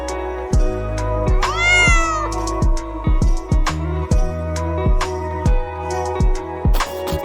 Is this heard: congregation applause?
no